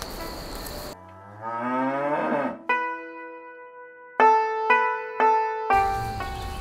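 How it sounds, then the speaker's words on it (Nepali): A village cow in Nepal lets out a long, loud moo, followed by a few shorter repeated calls in quick succession, close and clear, with some background noise at the start and end. "गाई के साह्रो कराएको"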